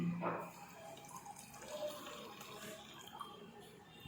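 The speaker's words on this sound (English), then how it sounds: "when I give pressure into the bottle, so by pressure the water is coming out" Water squirts in short bursts from a squeezed plastic bottle in a classroom air-pressure demonstration. The sound is a faint, close-up spray and drip over a quiet background.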